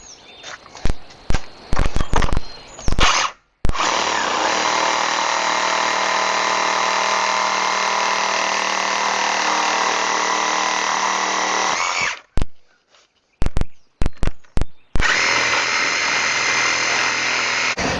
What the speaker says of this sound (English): I've got a reciprocating saw with a pruning blade on there.